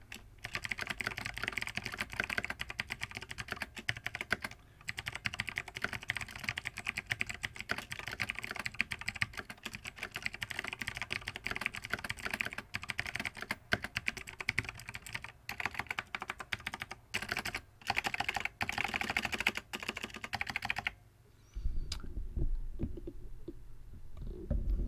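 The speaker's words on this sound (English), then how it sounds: "it actually sounds pretty good for a clicky switch keyboard" Rapid, steady typing on a cheap generic clicky-switch mechanical keyboard with plate-mounted switches and generic stabilizers, a dense run of sharp clicks filling about twenty seconds close up before the keys fall silent.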